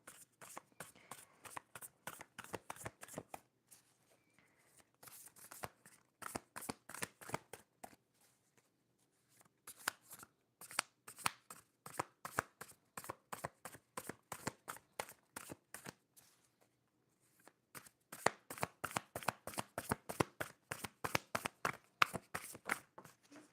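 Oracle and tarot cards shuffled by hand in quick bursts of crisp riffling slaps, several runs separated by short pauses, close and fairly quiet.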